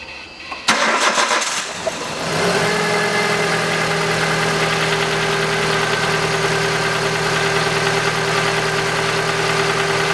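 A 2010 Kia Rio with a 1.4 engine cranks briefly, catches and settles into a steady, even idle that runs on alone, close and fairly loud.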